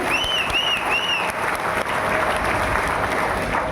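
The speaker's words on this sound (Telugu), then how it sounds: "ఒకసారి గట్టిగా క్లాప్ చేయొచ్చా దీనికి?" A gathering at a Vestige direct-selling company meeting claps hard and steadily for the full stretch, with a few thin whistle-like chirps rising over the applause near the start.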